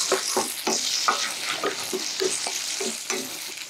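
Washed, cut cauliflower stirred and sautéed in hot oil, with a steady sizzle broken by rhythmic scraping strokes of a spoon about every half second, close and clear with no voices.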